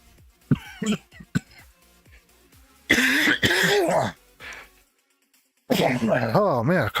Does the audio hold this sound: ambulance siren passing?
no